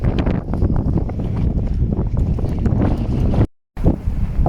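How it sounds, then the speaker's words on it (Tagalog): Strong wind roars and buffets against the microphone, a loud continuous rumble with a brief dropout near the end. "Super lakas ng hangin."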